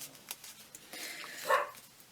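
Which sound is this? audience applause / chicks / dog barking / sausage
dog barking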